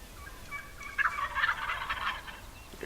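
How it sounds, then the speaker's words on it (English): Real wild turkeys gobble in open countryside, with several rattling calls at a moderate distance overlapping against quiet outdoor background noise. "For the next few minutes, all of the turkey sounds that you hear are real."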